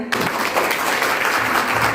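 Loud, dense audience applause at an RCM business event, many hands clapping steadily and close for about two seconds after a brief quiet start.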